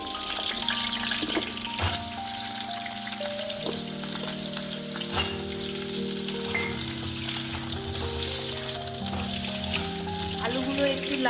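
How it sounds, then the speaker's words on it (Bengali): Potato pieces frying in hot oil until browned give a steady, close sizzle and crackle that continues throughout, layered under soft background music. "লাল করে ভেজে নেব"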